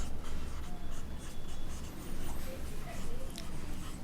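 Chalk or marker scratching across a board while chemical names are written in a chemistry lesson, steady repeated strokes under a hiss of room noise.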